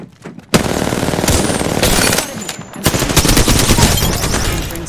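Sustained automatic weapon fire from an Apex Legends firefight, loud and close, with dense rapid bursts that break off briefly before resuming.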